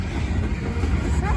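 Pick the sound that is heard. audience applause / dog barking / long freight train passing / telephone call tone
long freight train passing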